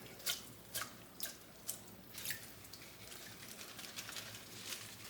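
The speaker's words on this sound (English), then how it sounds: "I'm going to rinse it again a second time" Egyptian walking onions being rinsed in water: a few soft splashes and drips in an uneven rhythm, close and quiet, then gentle sloshing.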